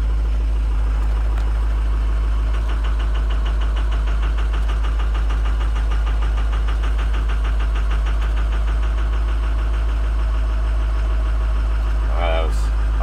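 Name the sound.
Ford 6.0 Powerstroke diesel engine running on a Super Duty truck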